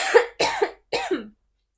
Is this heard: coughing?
yes